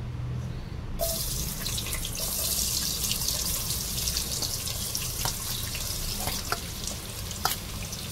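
Three large cut onions hit hot oil and burst into a sudden loud, bright sizzle that carries on steadily with a few crackles and stirring scrapes.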